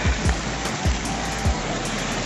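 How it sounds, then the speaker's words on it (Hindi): Cold spring water from a mountain stream flows steadily, a continuous near rush with a few low thumps from handling or wind. "ठंडे पानी के चश्मे आपको मिलेंगे।"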